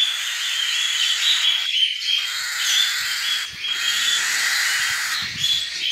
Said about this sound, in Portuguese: para eu poder tirar os filhotes de periquito australiano